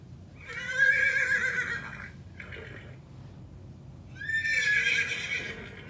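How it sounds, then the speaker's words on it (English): A horse whinnies twice, two bright drawn-out neighs separated by a short pause, fairly close and loud over a low rumbling background. "Of course it's a horse."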